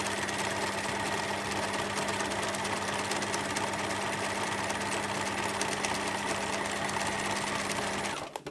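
A sewing machine stitches steadily over a fabric collage for thread drawing, a continuous close mechanical hum and rapid needle chatter that stops abruptly at the end.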